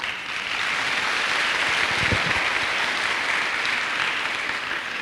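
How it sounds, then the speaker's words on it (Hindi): Audience applause at a business training event, steady dense clapping that fills the whole stretch at an even, fairly loud level with no pauses. "मैं चाहूंगा आप सारे लोगों के लिए एक बार जोरदार तालियां अपने लिए"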